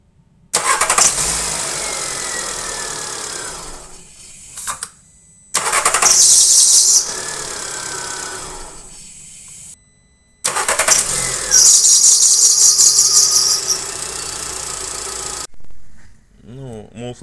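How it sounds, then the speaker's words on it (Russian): A VW Polo engine is cranked and started three times, each start bringing a high squeak from the slipping drive belt before the engine settles, close and loud. "мы услышали, что у нас при запуске пропискивает ремень"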